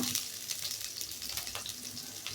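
Onions frying in a pan, a steady broadband sizzle with faint clinks and crackles, close and moderately quiet, with no voices.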